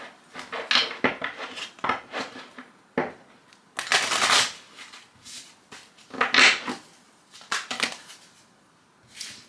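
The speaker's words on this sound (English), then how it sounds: "These cards are just like, tons of it are just falling out." Tarot cards being handled and shuffled, with a close series of irregular riffling and slapping bursts, some louder flurries, and brief pauses between them, with no talking.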